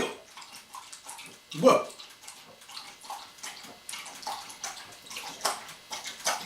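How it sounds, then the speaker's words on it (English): A hound dog laps morning water in a home kitchen, a soft, steady wet splashing that runs throughout at close range, with one louder slosh near the start and a person speaking briefly over it. "now one of my hound doggies is in here having some morning water too."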